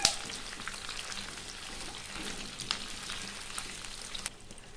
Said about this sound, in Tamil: நல்லா ரெண்டையுமே ஒரு 2 நிமிஷம் நல்லா வதக்கிக்கலாம்.